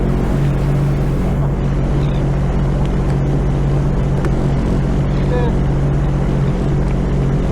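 A jet ski runs out on the sea, its engine droning steadily and loudly under constant wind and water noise throughout.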